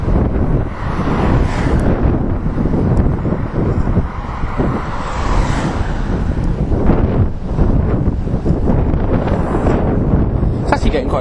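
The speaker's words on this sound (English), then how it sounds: "It's actually getting quite windy." Strong wind buffets the microphone in continuous loud, rumbling gusts outdoors during a hilly bike ride.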